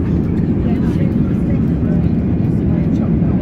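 Steady, loud engine and airflow drone fills the cabin of a Boeing 787 Dreamliner airliner during a long-haul flight, an unbroken low rumble with no distinct events.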